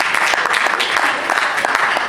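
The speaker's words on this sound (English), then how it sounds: "Please clap for him." An audience at an event on air pollution claps for a social entrepreneur CEO invited on stage, producing dense, steady applause from a sizable crowd, loud and close, with no voices standing out.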